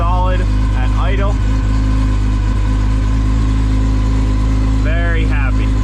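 Chevrolet Camaro engine idling, a loud, steady low rumble close by that runs the whole time while someone talks over it.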